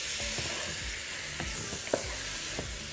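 Meat seasoned with black pepper sears in a pot, giving a steady close sizzle with a few soft stirring clicks and pops throughout.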